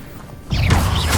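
A burst of fire spell casting from the Hogwarts Legacy video game cuts in halfway through, a loud whooshing crackle with low rumble that holds steady after a quiet start.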